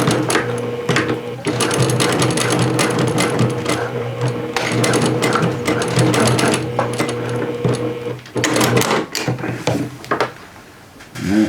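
A serger runs along the seams of a pair of jeans, sealing them off in a loud, steady mechanical whir with brief slowdowns and a short pause near the end, close up with no voices.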